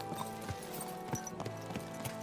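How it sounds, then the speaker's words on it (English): Horse hooves clip-clopping in Kingdom Come Deliverance II, a steady rhythmic series of thuds about every half second, close and fairly loud over a continuous musical and ambient game bed. "Easy, good horse."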